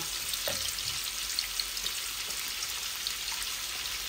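Fennel, cumin and two bay leaves crackle in hot oil, a close, even sizzle with a few small pops and stirring scrapes, steady and moderately loud with no voices.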